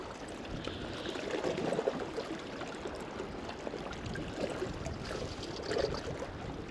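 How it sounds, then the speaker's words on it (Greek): Sea water lapping against rocks on the coast of Syros during a fishing outing, faint irregular sloshes and gurgles with soft surges rising and falling. "Τι ωραία αυτή η μουσική της θάλασσας"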